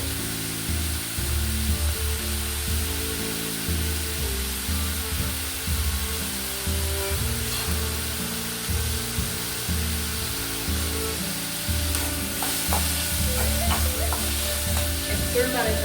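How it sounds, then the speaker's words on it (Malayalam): Chopped tomato, green chilli, garlic and ginger sauté in a hot pan, giving a loud, continuous close sizzle with occasional stirring scrapes throughout. "ഇനി നമ്മുടെ കട്ട് ചെയ്ത് വെച്ച തക്കാളി, പച്ചമുളക്, വെളുത്തുള്ളി, ഇഞ്ചി ഇതൊക്കെ ഇട്ടിട്ട് ഒന്ന് വഴറ്റിയെടുക്കുന്നുണ്ട്."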